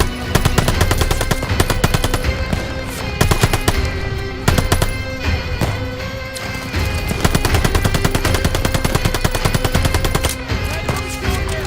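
Loud, sustained machine gun fire from the World War II shooter Call of Duty Vanguard, with rapid overlapping bursts and gunshots filling the whole stretch, dense and close with no talk.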